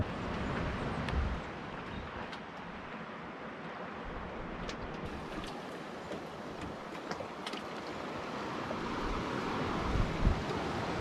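Ocean surf from a north swell rolling onto the beach at Chatham Bay, a steady broadband wash of breaking waves with some wind buffeting, continuous and fairly distant, with no voices.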